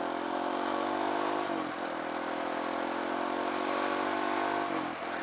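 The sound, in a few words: Kawasaki KLX170 dirt bike engine accelerating during break-in ride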